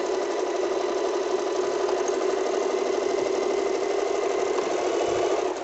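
An Usha Janome Excella Deluxe sewing machine runs steadily at speed, a continuous close whirring hum with a fast even mechanical rhythm and no talk over it.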